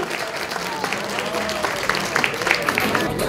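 An audience at a kickboxing match claps steadily, a dense crowd applause close and continuous with scattered sharper claps, and a voice is faintly heard beneath it.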